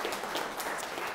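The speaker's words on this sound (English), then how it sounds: "I just want to give like just a round of applause to everybody who showed up today" Keynote audience in Bruce County applauding, a soft, distant wash of many hands clapping at low level throughout.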